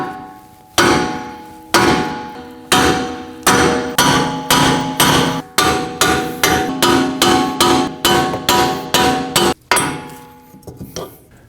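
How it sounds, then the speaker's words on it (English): A hammer repeatedly striking a wheel hub on a Ford Edge rear knuckle, about eighteen loud ringing metallic blows in an uneven rhythm that speeds up toward the end, finishing with a few lighter taps. "I'm going to use a hammer and strike on either side of the hub to try to free this up from the knuckle."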